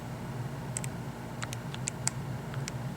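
A few light, scattered key taps on a keyboard while an equation is entered, sparse and fairly close over a steady low hum.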